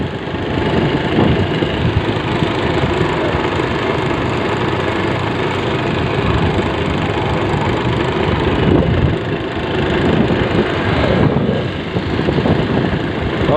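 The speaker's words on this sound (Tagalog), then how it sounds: "Itong motorsiklo natin" A motorcycle engine drones steadily while riding over a rough road, a loud continuous mid-range rumble with bumps and rattles throughout, close and alone with no talk.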